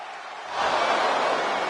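An arena crowd in the WWE 2K25 wrestling video game swells from a low murmur into a loud, sustained roar of disapproval that holds steady.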